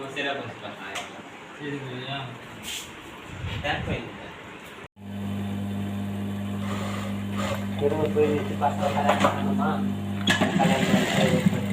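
A sewing machine stitches cloth in a workshop setting, its steady motor hum starting partway through and running under ongoing conversation.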